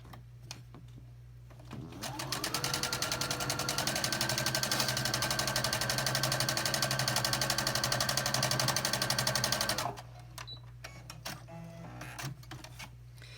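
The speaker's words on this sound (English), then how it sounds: "Now I'm going to sew all the way down here" A sewing machine stitches a seam on a heart quilt block, starting up after a quiet moment, humming in a rapid steady whir for about eight seconds, then stopping, close and clear with no speech.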